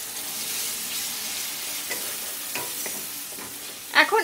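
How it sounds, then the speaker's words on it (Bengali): Spice paste with a little water cooking down in a pan for a Bengali doi pabda fish dish, giving a steady soft sizzle with a few stirring scrapes and a sharper burst of spatter near the end. "সামান্য একটু জল দিচ্ছি মশলাটা কষানোর জন্য"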